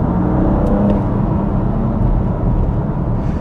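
A BMW M2 Competition engine in Sport Plus mode drones steadily from inside the cabin, a loud low rumble with a constant throttle hum and no sharp revs or pops.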